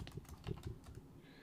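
Fast, uneven clatter of keys on a computer keyboard, a burst of close taps with a few heavier strikes, tapering off near the end with no talking.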